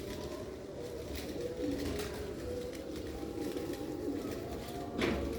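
Cooing from high-quality chuha-type pigeons kept by a Sialkot fancier, a soft, steady murmur running under a constant background hum for the whole stretch, with a slightly louder swell near the end.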